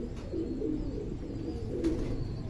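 Pigeons coo steadily and close by, a low, throaty rolling murmur that swells slightly near the end, as a male courts and chases a female at breeding time.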